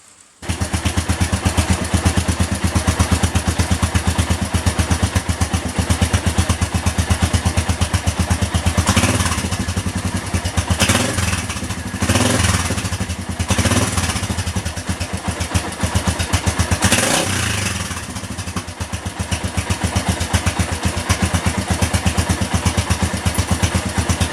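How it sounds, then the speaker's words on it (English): A Suzuki GN250 motorcycle engine idles steadily while warming up, a close, continuous mid-pitched thrum with light mechanical clatter and a few brief swells in revs, with no talk over it. "First thing we need to do is warm the engine up"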